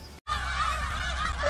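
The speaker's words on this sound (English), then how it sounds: "Look at all those chickens!" Chickens squawk loudly in the video game League of Legends, a dense continuous honking chorus after a brief cut, filling the moment close and bright.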